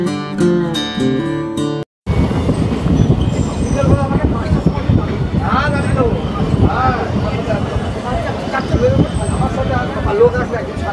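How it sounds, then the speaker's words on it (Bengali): Local train running on the rails, a loud close rumble of wheels and carriage with occasional squeals, preceded by a brief musical passage and a moment of silence. "অনেক দিন পরে আমি লোকাল ট্রেনে এরকম জার্নি করছি"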